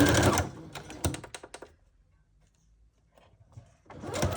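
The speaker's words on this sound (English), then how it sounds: "Just gonna do my best to try to sew this down." A sewing machine stitches fabric down with black thread in a few short, close bursts, followed by near silence, then resumes briefly at the end.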